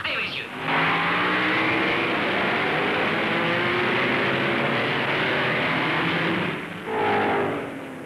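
1950s Grand Prix race cars roar at full speed on a fast European circuit, a loud sustained engine howl that swells as cars pass close, with a second car surging by near the end.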